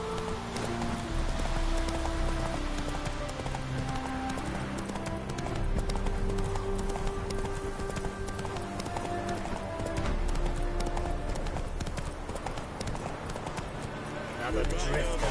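Hooves of the horse Roach clip-clop steadily in a PS4 video game, with rain falling and a voice talking over the galloping rhythm.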